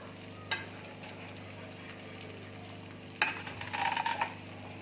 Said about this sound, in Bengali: এবার আমি পেঁয়াজ দিয়ে দিচ্ছি, ক্যাপসিকাম দিয়ে দিচ্ছি,